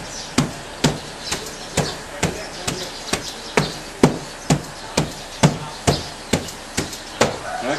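A hammer pounds steadily, about sixteen evenly spaced heavy thuds with a woody knock, close and fairly loud, set against faint background noise at a home construction site in Thailand.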